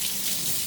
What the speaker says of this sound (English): Make sure you put them under the water and wash them with soap.